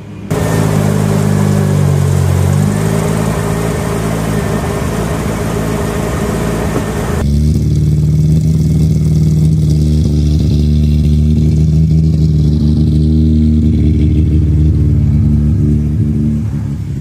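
A Mazda RX7 rotary car is driven with the engine revving and droning loudly from close by. The pitch and tone change partway through as the car moves off and settles into a steady run, with no voices.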